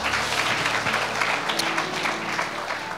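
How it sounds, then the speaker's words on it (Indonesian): A church congregation applauding during an online worship service, a continuous bed of many hands clapping, moderately loud and even, with faint music or hum lingering underneath. "Berikan tepuk tangan kita untuk Tuhan kita."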